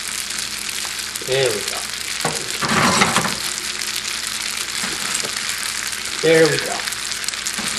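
Spicy crab sauce hits a hot pan for crab pasta and sizzles loudly and continuously, swelling at moments of stirring, while someone speaks briefly over it.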